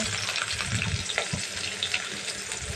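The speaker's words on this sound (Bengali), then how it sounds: "পেঁয়াজটা আমি লাল কেড়া ভেজে নিচ্ছি" Chopped onions and green chillies frying in a pan with salt and turmeric, a steady close sizzle with faint scraping of stirring and no voices.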